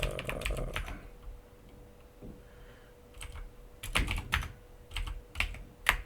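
Fingers type on a computer keyboard in two bursts of quick, close clicks, split by a quiet pause with a faint steady hum underneath and no talking.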